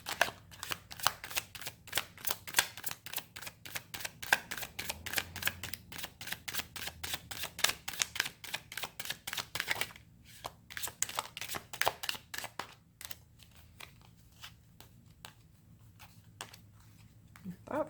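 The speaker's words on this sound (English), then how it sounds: "Let's pull some more cards." Tarot cards are shuffled and pulled from a deck, giving a fast run of crisp riffling clicks that slows and thins out after about ten seconds into sparser, softer flicks, close and fairly quiet.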